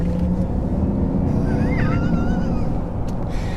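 Mercedes EQS 450+ electric car accelerating hard with its synthetic Vivid Flux drive sound, a rising, warbling spaceship-like tone sweeping over a steady low road rumble.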